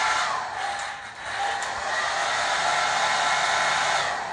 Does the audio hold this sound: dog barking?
no